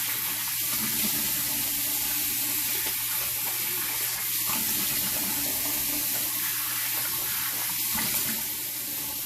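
A bathroom tap runs steadily while someone rinses their face after a close shave with a Micro Touch One double-edge razor, a continuous splashing flow heard up close with faint irregular splashes and no speech.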